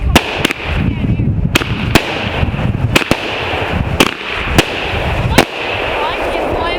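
Fireworks going off at a cabin celebration: a series of about ten sharp, loud bangs spaced irregularly over several seconds, with crackling and people talking underneath between the blasts.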